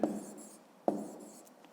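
A pen scratches out numbers on paper while a column addition is worked, two short strokes close by in a quiet room.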